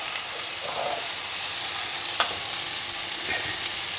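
Chopped green chillies frying in a pan with spices for an achari okra and onion dish: a steady, close sizzle with a few faint clicks of a stirring spoon.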